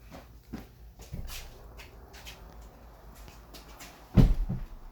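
A door in a building under construction closes with a firm thump near the end, following soft rustling and faint shuffling in a quiet room.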